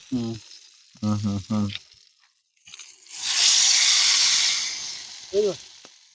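Fish fries in hot oil in a pan outdoors on a riverbank, with a loud, steady sizzle that builds and hisses for a couple of seconds before fading; brief speech comes just before and just after the frying.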